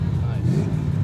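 A Ford Mustang engine revs with a loud, steady low-end roar through the short burst, while people talk nearby.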